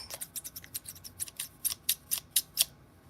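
Scissors snip repeatedly, about a dozen crisp, close metallic cuts in an uneven rhythm that grows slightly louder toward the end, with no talking.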